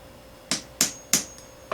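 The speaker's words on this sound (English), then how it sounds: "So I'm going to try a hammer" Five sharp metallic hammer taps at uneven intervals, close by, each ringing briefly before the next strike, as a hammer drives small wedges under a circular epoxy table.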